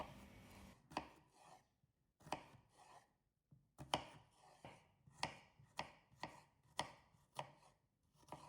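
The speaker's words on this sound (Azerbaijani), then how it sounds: "3 ədəd təzə xiyarı da nazildib kub şəklində doğrayıram." A knife chops fresh cucumbers into cubes on a board, a close, crisp series of quick chopping strikes in short bursts with brief pauses, no talking.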